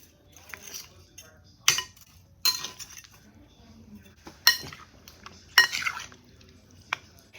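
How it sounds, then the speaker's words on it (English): Metal tongs tossing potatoes with grated mozzarella in a dish, giving sharp clinks and scrapes at irregular intervals with soft mushy stirring between them, close and fairly loud. "using my tongs, we're just going to mix everything together until they're well combined"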